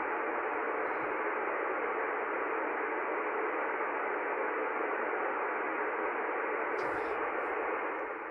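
Radio downlink static received from the International Space Station, a steady loud band of hiss throughout with faint muffled voice traces, no clear speech.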